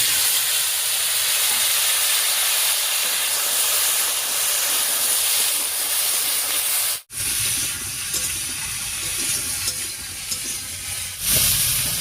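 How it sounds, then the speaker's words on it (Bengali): Potato, brinjal, ridge gourd and vegetable stalks drop into hot tempering oil with dried red chilli and cumin, giving a loud, steady close sizzle and hiss that breaks briefly once, then resumes. "ফোড়নটা ভাজা হয়ে গেছে, এবারে আলু, বেগুন, ঝিঙে আর ডাঁটাটা দিয়ে দিচ্ছি"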